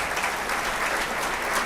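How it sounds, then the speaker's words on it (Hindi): A seminar audience in Begusarai, Bihar gives loud, dense applause to welcome an English teacher, with steady clapping from many hands filling the hall. "इंग्लिश के टीचर, जोरदार ताली से उनका स्वागत करेंगे।"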